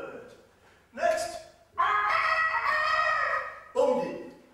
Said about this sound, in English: They're called chickens.